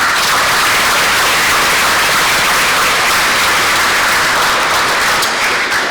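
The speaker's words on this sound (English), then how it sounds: "Let's give them a round of applause." Loud, dense applause from a large school assembly crowd, steady and sustained throughout with no pauses, filling the room evenly.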